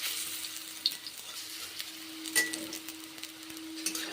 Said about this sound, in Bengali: এখন তাহলে আমি বড়াগুলো ভেজে নিচ্ছি